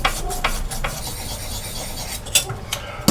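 Rapid scraping and rasping strokes as the edge of a homemade pottery tool is sharpened, close and fairly loud with irregular bursts and short pauses.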